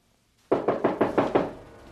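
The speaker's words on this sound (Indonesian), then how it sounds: "Himbri dari luar mendengar seseorang mengetuk pintunya." Knocking on a school principal's office door: six firm, evenly spaced raps, close and clear after a brief silence, with no voices.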